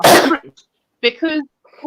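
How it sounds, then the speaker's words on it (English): A single sharp, loud cough bursts out at the start, sounding much like a sneeze, followed by a few short spoken words after a pause. "I coughed."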